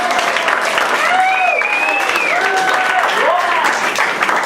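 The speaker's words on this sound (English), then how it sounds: "So give him a round of applause." Comedy club audience applauding at a standup show, a steady wash of clapping that fills the whole stretch, with a voice or two faintly audible underneath.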